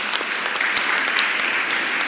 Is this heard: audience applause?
yes